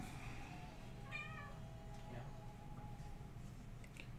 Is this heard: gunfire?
no